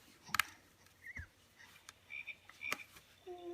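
Animal calls from a baby rainforest gym toy play faintly: croaking frog-like chirps and short electronic tones in scattered bursts over a quiet background.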